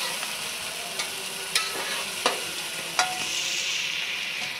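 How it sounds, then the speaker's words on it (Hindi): Meat frying in a pan with garlic, ginger and tomatoes for shaljam gosht, a steady close sizzle with a handful of sharp spoon clinks as the mixture is stirred. "पाँच मिनट हो चुके हैं गोश्त को फ्राई होते हुए लहसुन अदरक के साथ।"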